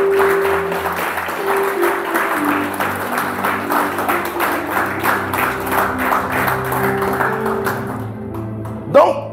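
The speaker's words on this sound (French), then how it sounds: "Acclame Jésus, s'il te plaît" A church congregation applauds Jesus at a French-language worship service, steady clapping filling the room over organ or keyboard chords, with voices mixed in beneath.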